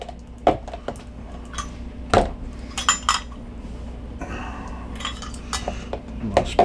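A metal spoon scrapes and clinks against a dish while scooping out street corn in a home kitchen, a series of sharp, irregular taps and scrapes, fairly close and moderately quiet.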